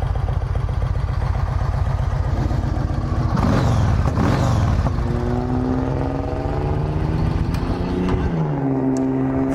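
A 2006 Yamaha Roadliner belt-drive motorcycle engine runs close by with a loud, steady lumpy throb, rising briefly in a quick rev before settling back to a rumbling idle.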